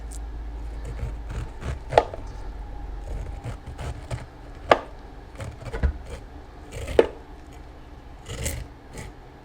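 A sharp knife cuts kernels off a corn cob with soft scraping strokes and a few louder thuds against the board, irregularly spaced and close by, in a quiet kitchen.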